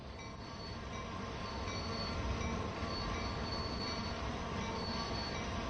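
A locomotive moving in Train Sim World 3, a steady rolling rumble of wheels on rails with faint squealing tones, continuous and moderately quiet throughout with no talk.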